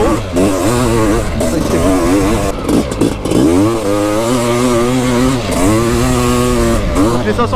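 A TRP 500CR motocross motorcycle runs close by, its engine revving up and down in repeated rising and falling sweeps, loud and raspy, with a brief dip in the middle before climbing again.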